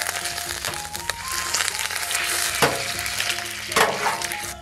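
Fatty pork intestines dropping into a hot wok with aromatics, giving a steady crackling sizzle and bubbling with a few sharper splashes, no voices.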